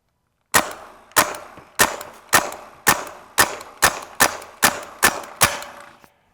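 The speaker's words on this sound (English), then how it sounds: "today we're making up for it with a mag dump" An air rifle fires a rapid mag dump at watermelons, ten sharp cracks at an even, quick rhythm, each loud and close with a short decay, with no talking over them.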